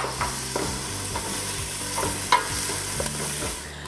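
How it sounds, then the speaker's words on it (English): Chopped onion sizzling in olive oil in a pan, a close, steady frying hiss with repeated scraping and stirring clatters throughout, no voices. "we're then gonna add in half of a chopped up onion. And we're gonna let these cook for about 3 or 4 minutes"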